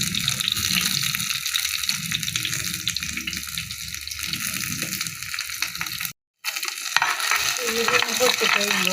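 Fenugreek seeds splutter and fry in hot oil as the base for a fish curry. A loud, continuous crackling hiss runs close by, cut off briefly by a short silence before resuming.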